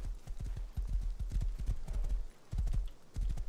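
A horse's hooves clip-clop steadily in a video game, a quick, even trot of hollow knocks that stays loud and close for the whole stretch, with a brief pause partway through.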